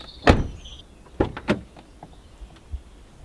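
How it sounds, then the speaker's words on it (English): Mitsubishi L200 four-door cab door being pulled shut from the driver's seat, a sharp solid thud followed by a couple of lighter clicks and knocks as the latch and handle settle, close and alone. "I'm going to shut the door."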